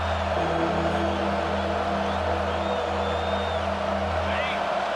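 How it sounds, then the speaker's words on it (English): In EA Sports College Football 25, a stadium crowd cheers behind the defense on third down, a dense steady roar with whoops rising over it, while a commentator talks over the top. "Decibels rising as the crowd gets behind this defense on 3rd down."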